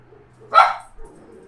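A dog gives one sharp, fairly loud bark nearby, followed by a faint low thump, with quiet room tone on either side.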